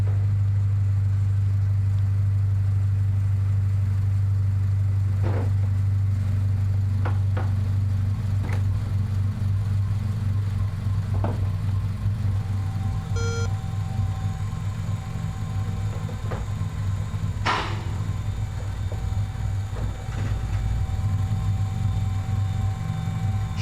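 A tuned Honda engine idles roughly with a steady low drone, throwing a faint intermittent rattle and a few sharp ticks over a continuous rumble, with no talking.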